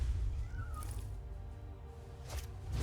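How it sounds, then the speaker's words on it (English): A nightmare kitty pet in the MTG Arena card game gives a short soft meow, faint and synthetic, over low game background sound. "isn't a cute little nightmare kitty"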